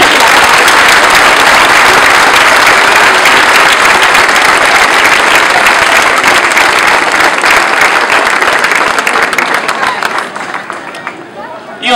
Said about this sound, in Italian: Accogliamo la Vergine Santa con un bel applauso da figli.